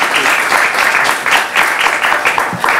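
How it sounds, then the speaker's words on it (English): Audience applause at a talk on the Hong Kong protests and mental health, a steady dense clapping that swells and dips slightly throughout, fairly close and filling the room with no voices over it. "Please join me in giving another round of applause to Professor Yip and to Eric for moderating."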